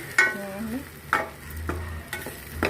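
Potatoes fry in a pan with salt, chili powder, turmeric and garam masala while a spatula stirs and scrapes, giving several sharp clattering strokes over a soft, steady sizzle.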